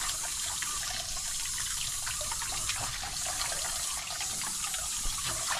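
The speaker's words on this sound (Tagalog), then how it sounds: "Tahimik muna tayo para mapakinggan yung tubig tsaka mga kuliglig." Steady flowing water runs beside chirping crickets outdoors, a constant rushing wash with high thin insect trills threaded through it, heard for several seconds with no talking.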